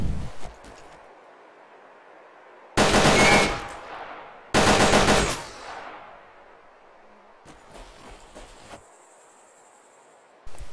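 Two long bursts of automatic gunfire in a video game, loud and dense, fired at a locked vehicle, separated by a pause, with a quieter mechanical clatter afterward.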